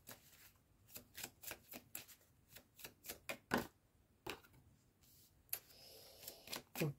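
Tarot cards shuffled during a Cancer-sign reading: a string of quick papery riffles and flicks in irregular bursts, close and fairly quiet, with no talk.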